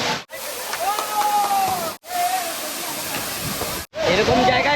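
A waterfall at Mahendragiri Hills in Odisha roars with a steady, loud broadband rush that fills the whole scene, and a person speaks over it.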